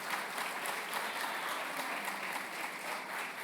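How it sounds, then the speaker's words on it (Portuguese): Steady, dense applause from a church congregation fills the space without a break, a broad even clatter of many hands at moderate distance. "Se vai aplaudir, faz bonito."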